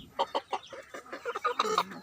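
A chicken clucks in a rapid series of short, throaty calls, close by, rising slightly toward the end.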